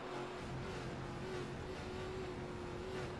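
A Gen4 race car engine in iRacing at Chicagoland roars past in a steady, dense drone that stays loud and fairly close throughout, with no voices.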